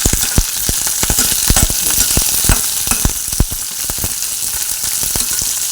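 Green chilies and mint leaves fry in hot oil for fried rice. The sizzle hisses steadily and closely, broken by frequent sharp pops and crackles, with no voices.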